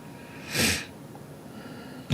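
A single sharp sneeze bursts out, loud and close, followed by quiet room tone and a brief rustle at the end.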